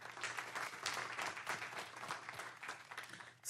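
Audience applause at a council meeting: sustained clapping from a modest crowd, continuous and fairly distant, captured at low level throughout.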